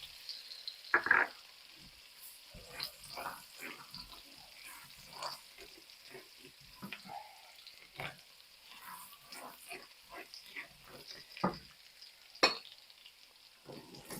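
Garlic sizzles in a stir-fry pan for beef and broccoli, a quiet steady crackle broken by scattered clinks and scrapes of a utensil against the pan, with a couple of sharper knocks.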